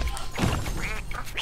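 Cartoonish duck quacking in the video game Rayman Legends, a few quick nasal quacks over a busy, loud game soundtrack and effects, close and bright, with no talk.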